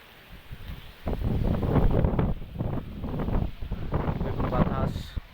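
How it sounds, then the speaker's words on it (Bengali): Strong gusting wind during a storm over flooded surroundings, heard from a mosque rooftop with coconut trees nearby, roaring in loud buffeting surges against the microphone for most of the clip. "অনেক বাতাস শুরু হয়েছে।"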